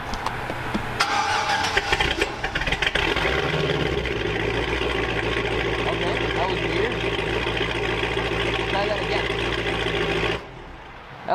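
A Cadillac CTS-V's engine cranks and fires, then settles into a loud, steady idle that rumbles on for several seconds before cutting out, with a person's voice heard under it.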